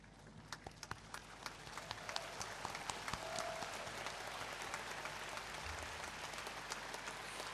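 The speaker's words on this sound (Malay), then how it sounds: "memberikan tepukan yang paling gemuruh kepada ibu bapa dan penjaga" Faint, distant applause at a university convocation as graduates stand to clap for their parents and guardians, a thin wash of scattered claps heard far off over a steady hall hum, with no speech.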